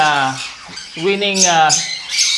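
A young pet bird gives loud, close squawks and raspy calls, several harsh cries running together over about two seconds with no talk.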